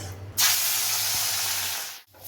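Rohu fish slid into hot mustard oil, bursting into a loud, sudden sizzle that holds as a strong steady hiss for over a second before cutting off.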